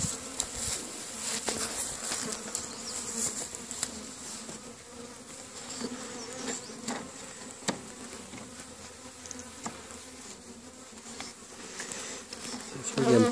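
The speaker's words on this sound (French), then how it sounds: "Il n'y a pas énormément d'abeilles, c'est juste un petit nucléide 4 cadres" Honeybees buzzing inside an opened small four-frame nucleus hive, a steady close droning hum with occasional louder passes near the listener.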